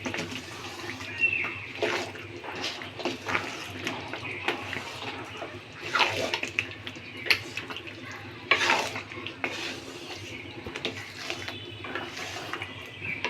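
Mango pickle with spices is stirred in a pan, soft scraping strokes and low bubbling simmer repeating at a moderate pace, fairly quiet and close.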